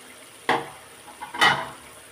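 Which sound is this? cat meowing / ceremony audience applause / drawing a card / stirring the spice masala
stirring the spice masala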